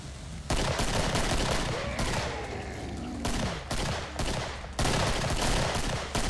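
Sustained automatic gunfire from the Killing Floor co-op shooter, a dense rattling fusillade of rapid shots lasting several seconds with brief pauses between loud bursts, close and dominant with no talk over it.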